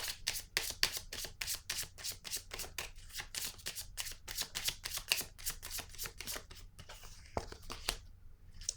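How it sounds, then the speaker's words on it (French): A paper deck of tarot or oracle cards being shuffled by hand, quick riffling flicks in a steady rhythm, close and soft, ending with a card being drawn. "je vais piger une autre carte ici."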